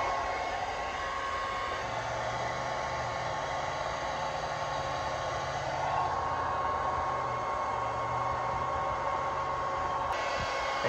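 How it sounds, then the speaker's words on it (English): A hair dryer on hot setting blows steadily with a constant whooshing roar and faint motor whine while removing decals from a school bus, unbroken from start to finish, close and fairly loud. "you can just grab the blow dryer out of the bathroom"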